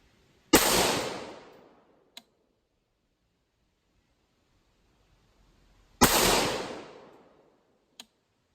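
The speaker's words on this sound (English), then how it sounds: "5-shot group with a hot barrel." Two loud, close rifle shots about five seconds apart, each a sharp crack with a decaying roll, followed by a faint click, from a rifle with a hot barrel firing a group.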